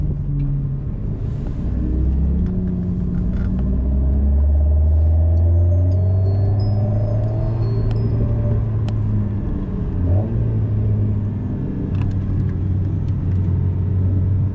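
A Legend GT sports car's engine drones steadily from inside the cabin, its pitch rising and falling through gear changes as it accelerates along a race circuit.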